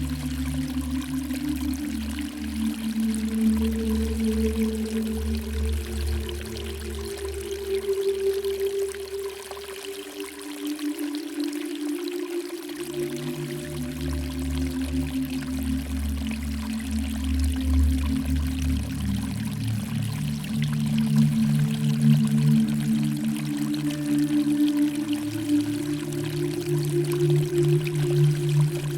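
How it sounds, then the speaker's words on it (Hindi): A meditation waterfall effect: continuous rushing, pouring water flows steadily throughout, layered over soft low droning tones. "झरने की आवाज़ आपको साफ-साफ सुनाई दे रही है।"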